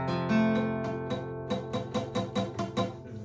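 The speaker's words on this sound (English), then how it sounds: "Those last two are just kind of being muted" A guitar bar chord is picked one string at a time, first ringing notes then a quick run of separate plucks; the last two strings come out as dull, muted thuds, with no talking.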